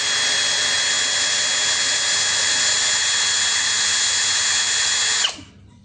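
A Dongcheng 2040i power tool runs at its lowest speed setting with a loud, steady, high-pitched motor whine for about five seconds, then cuts off abruptly and winds down.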